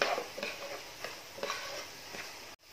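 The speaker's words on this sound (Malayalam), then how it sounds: "ഇനി ഇത് നന്നായിട്ട് വഴറ്റുക." Carrots and mixed vegetables sautéed over medium flame in a pan for gobi (cauliflower) fried rice, giving a faint, steady sizzle broken by repeated scraping stirs of a spatula, with no talking.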